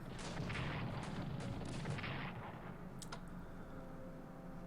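Cavalry attacking with gunfire in the World War I strategy game Strategic Command gives a dense, rumbling burst of shots and booms that fades after a couple of seconds, followed by a brief sharp crack.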